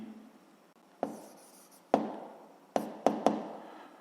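Pen or chalk strikes and scratches of notes being written during a physics lesson, five quiet taps and short strokes spread over a few seconds with faint scraping between them.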